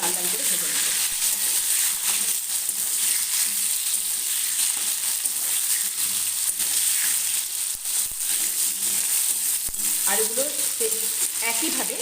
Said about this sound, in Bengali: আলুগুলো একইভাবে লাল লাল করে ভেজে নেব